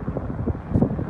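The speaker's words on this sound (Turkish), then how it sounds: "Biraz hava rüzgarlı, sesli şey olabilir." Low, rumbling wind buffeting the microphone at the Hungarian-Romanian border crossing, a steady blustery roar with some faint murmuring underneath.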